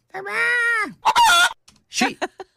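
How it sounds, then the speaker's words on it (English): A bird call that sounds like a chicken, a drawn-out honking squawk followed by a second harsh burst and a few shorter clucking notes, loud and close. "It sounds exactly like a chicken."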